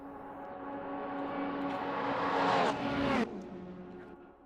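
A Porsche and a Chevrolet race car in an NLS endurance race roar down the straight, engine note swelling as they approach and pass close by, then dropping away as they recede.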